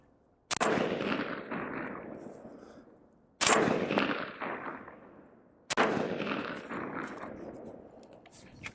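Three loud, sharp gunshots from a 300 Blackout rifle with a 5.5-inch barrel firing Barnes 120-grain Vortex TX ammunition, evenly spaced a few seconds apart, each cracking hard and then echoing away outdoors.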